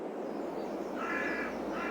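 Birds in a chicken coop on a farm in the game American Falls, a few harsh caw-like calls over a steady ambient hiss, moderately near, no talk.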